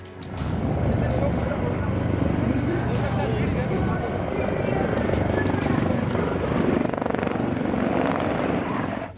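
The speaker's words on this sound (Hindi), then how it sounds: "देखिए कैसे आसमान में हेलीकॉप्टर करतब दिखाते नजर आए" Helicopters performing stunts at an air show give a loud, continuous rotor and engine roar with rhythmic chopping, while a voice talks over the noise throughout.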